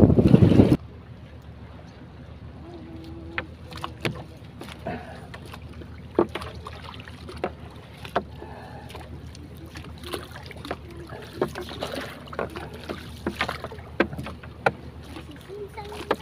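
A small fishing boat heads out at sea, with steady wind buffeting and scattered water slaps and knocks against the hull after a loud bump at the start.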